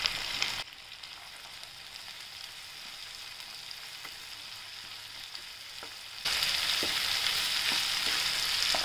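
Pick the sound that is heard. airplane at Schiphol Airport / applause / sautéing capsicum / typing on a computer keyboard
sautéing capsicum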